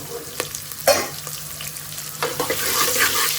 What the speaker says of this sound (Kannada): ಈರುಳ್ಳಿ ಸ್ವಲ್ಪ ಕಲರ್ ಚೇಂಜ್ ಆಗೋವರೆಗೂ ಫ್ರೈ ಮಾಡ್ಕೊಳ್ಳೋಣ